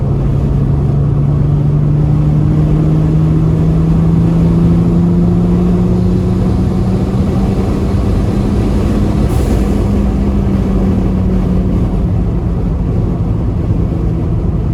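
A Mercedes 3.2-litre M104 turbocharged engine pulling on a dyno in fourth gear near 3000 RPM, a loud, steady, droning roar with a slowly rising pitch that holds for the full stretch, with no voices.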